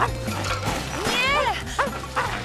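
An animated large puppy dog gives a few short whimpers and yipping barks over a low, steady musical drone, close and moderately loud.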